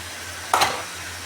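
Garlic and onion dropped into a hot pan for a rustic home-style mushroom shorba, giving a short, sharp sizzling burst over a steady close background hiss.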